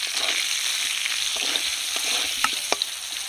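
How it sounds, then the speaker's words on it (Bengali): Large-cut potato pieces frying in hot oil for a Bengali fish curry meal, giving a steady close sizzle and crackle throughout with a few sharper pops near the end, with no talking. "আলুটা একটু ভালো করে ভেজে নেবো।"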